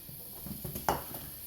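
Chopped onions land in hot olive oil in a pan and are stirred, with soft sizzling and a few scraping strokes, plus one sharper clink of utensil on pan, close and fairly quiet.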